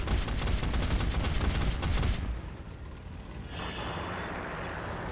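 Bursts of rapid cannon and machine-gun fire from Japanese tanks in a War Thunder battle, dense and loud for about two seconds, then stopping and leaving quieter rumbling background with a faint high tone.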